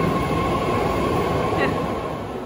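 A BART train runs at speed, its loud, continuous rumble and rail roar filling the whole stretch, with a steady high whine overhead and a faint squeal of wheels.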